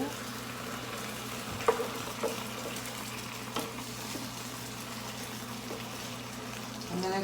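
Meat sauce with diced tomatoes being stirred in a pan for homemade pasta, a soft steady sizzle with occasional scrapes and clinks of the spoon against the pan, fairly quiet.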